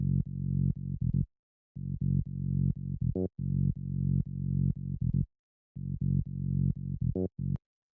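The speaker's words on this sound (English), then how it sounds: "The next thing that we have here is the bass," A disco-style bass line in a live bass-guitar manner, part of a house track, plays alone as short, punchy, deep notes in a bouncing rhythm with brief pauses between phrases.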